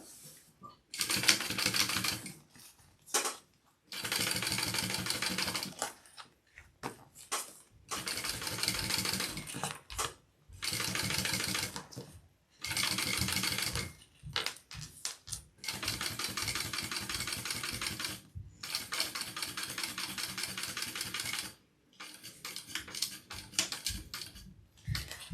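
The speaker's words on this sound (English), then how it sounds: "I'm just going to top stitch down both sides of the zipper first before I do the top and bottom" A sewing machine top-stitches along both sides of a backpack zipper in repeated bursts of rapid mechanical clatter, each run several seconds long, separated by short pauses.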